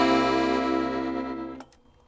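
An accordion plays a short classic blues ending. A full, buzzy, sustained chord holds for about one and a half seconds, then drops off into a couple of soft, quick notes. It is close and moderately loud, with no talk.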